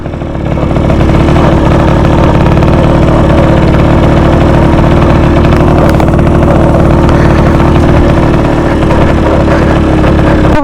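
A 1938 NSU Quick 98 motorcycle engine running steadily on forest and off-road tracks, a loud continuous mid-pitched drone with no pauses or talk.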